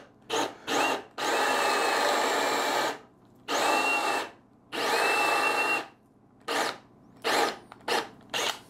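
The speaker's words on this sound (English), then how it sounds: "now I've got a 1-inch Forstner bit, and I'm going to drill my recess" A drill with a 1-inch Forstner bit bores a recess into construction lumber in repeated bursts, a few long grinding runs followed by shorter quick pulses, close up with no talking.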